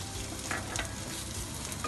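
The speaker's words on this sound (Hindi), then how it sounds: "सबसे पहले हम इसमें लहसुन डाल के इसे अच्छे से भून लेंगे। साथ ही हम इसमें प्याज डाल देंगे।" Garlic and onion fry in a pan for chowmein, a steady close sizzle with a faint scrape or two of stirring over two seconds and no talking.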